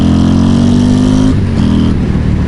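A Harley-Davidson Road Glide with a Screamin' Eagle 135 engine pulls hard under throttle, a loud, close engine roar rising steadily before a shift breaks it, then picking up again.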